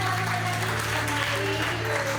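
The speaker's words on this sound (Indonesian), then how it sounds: "Berikan tepuk tangan buat semuanya." Applause from a church congregation during a Sunday worship service, a steady wash of clapping over a low droning hum, fairly quiet and continuous throughout.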